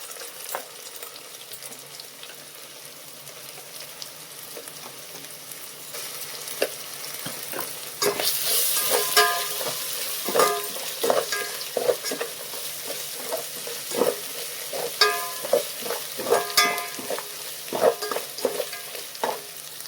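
Onions frying in a pan with ginger garlic paste added, a steady sizzle that grows louder midway, with repeated close scraping stirring strokes at an irregular rhythm and no talk.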